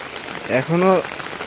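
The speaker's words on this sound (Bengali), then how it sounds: "রাত থেকে প্রচুর পরিমাণে বৃষ্টি হচ্ছে।" Heavy rain falls steadily during the rainy season, a dense continuous hiss that carries through the whole stretch, with a brief voice-like murmur rising over it midway.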